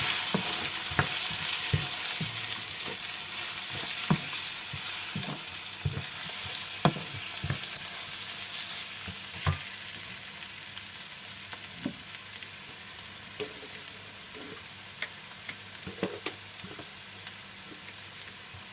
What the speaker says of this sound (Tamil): இதை சேர்த்து வடிவாக கிளறி விடுவோம்.